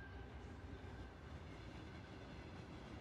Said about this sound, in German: Wo ist denn der Zug hier, Mensch?